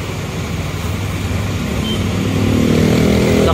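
A Hino RK8 coach with a Jetbus 3 SHD body runs its diesel engine at Grogol bus terminal in Jakarta, giving a steady, loud low drone that swells slightly toward the end, with no other sounds standing out.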